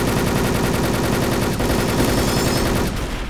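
Sustained rapid automatic gunfire in the online shooter Wolfteam, a dense continuous rattle of shots running loud and close for several seconds before cutting off.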